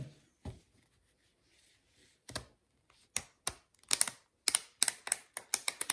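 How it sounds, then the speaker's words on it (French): Oracle cards being shuffled by hand, a sparse few riffles at first, then a quick run of crisp, close snapping flicks as the deck is cut and shuffled, with no voice. "Je vais mélanger les cartes."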